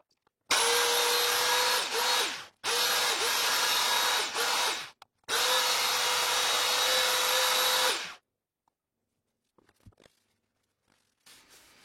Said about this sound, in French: je vais mettre la ponceuse électrique de côté